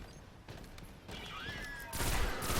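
Gunfire in the Destiny video game as enemies are shot at: a dense, steady fusillade of game shots with a brief whistling streak, swelling louder near the end.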